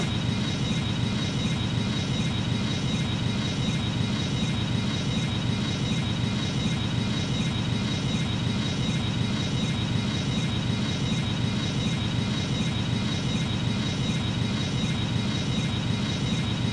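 Loud, steady roar of Airbus A320 jet engines at full power on takeoff in a flight simulator, a constant whine riding over deep rumble with no pauses throughout.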